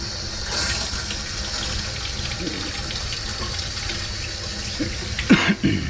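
Water runs from a sink tap to rinse a part of a Preval paint sprayer, a steady close splashing flow that surges and spatters more strongly near the end.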